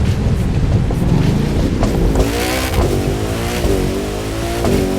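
A Koenigsegg Jesko hypercar in The Crew 2 racing game screams through a city with a loud, sustained engine roar, its pitch climbing and dropping sharply through several rapid gear shifts, with steady wind rush underneath and no talk.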